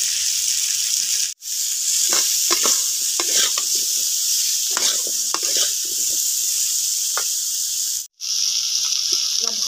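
Vegetables, including beans, sautéing with salt and turmeric in a pan under a pressed-down lid, giving a steady loud sizzle with scraping stirs and two brief dropouts, no talk.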